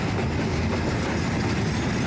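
A container freight train running on a railway from China to Kyrgyzstan, its steady rumble and wheel noise loud and continuous throughout, with no voices.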